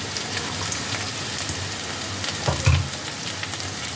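Paneer and coriander leaves sizzle in hot oil in a pan, a steady crackling fry broken by a few thumps and scrapes as the pieces are stirred, with no voices.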